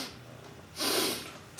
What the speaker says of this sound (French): le géant renifla de nouveau.